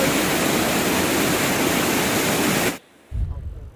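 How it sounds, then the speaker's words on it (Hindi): Ravana waterfall near Ella, Sri Lanka, swollen by heavy rain, roaring as a loud, steady broadband rush of water that cuts off abruptly near the end, leaving a brief lull before a low rumble returns. "पानी का आवाज़ सुनिए।"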